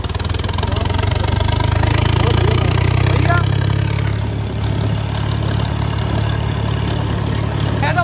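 A tractor engine idles steadily and loudly close by, a low rumbling drone that holds for the whole stretch with a slight dip near the middle.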